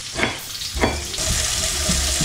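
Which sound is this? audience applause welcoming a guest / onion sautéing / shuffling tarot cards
onion sautéing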